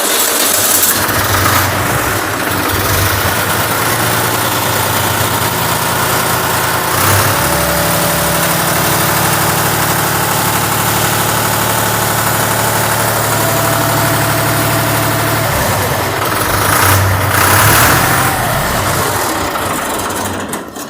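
A cold 2018 Fiat 480 diesel tractor engine idles steadily and loudly up close, a low rumbling chug with constant vibration and no talking throughout.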